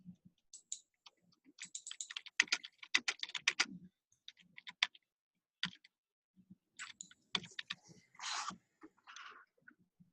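People typing on computer keyboards during an online teacher training session, with bursts of rapid key clicks and pauses over roughly ten seconds, fairly close and distinct, with no talking.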